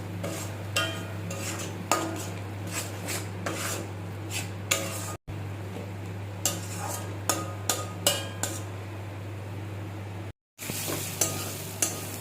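Mashed cabbage with garlic, turmeric and salt is stirred in a pan over a low gas flame, with a spoon scraping the pan in steady, rhythmic strokes over a soft sizzle.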